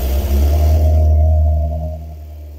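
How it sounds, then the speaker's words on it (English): A Kawasaki ZZR 600 motorcycle engine idles while warming up, a steady low hum that holds for about two seconds and then fades somewhat, with no talking over it. "I don't know if you're able to hear me or if you can't hear the bike, but it's running, it's warming up."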